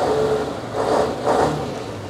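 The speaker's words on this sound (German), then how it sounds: "wir hören uns natürlich den phänomenalen SK V8 Sound an" A Mercedes-Benz SK fire truck's V8 engine revs in two swelling bursts over a steady rumbling drone, close and fairly loud with no talk.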